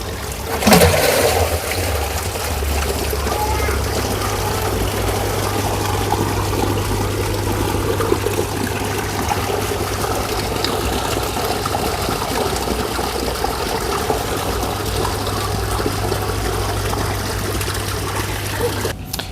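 Water draining steadily from the first chamber of a two-stage koi pond filter, a continuous loud rushing trickle that persists throughout with an underlying low hum.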